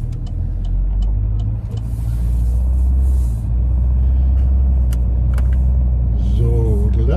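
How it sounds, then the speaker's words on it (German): Steady road traffic on a morning drive in Hungary, heard from inside a car: continuous engine rumble and tyre roar with passing vehicles, loud and unbroken throughout. "nochmal ein ganz schöner Verkehr heute Morgen hier."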